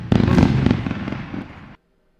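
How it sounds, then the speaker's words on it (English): Fireworks crackle and pop in a dense, loud burst of bangs lasting under two seconds, then cut off abruptly to silence. "We're gonna run some fireworks."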